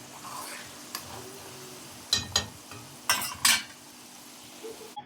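Potatoes frying in a pan make a low, steady sizzle, broken by several sharp bursts of stirring and clattering against the pan.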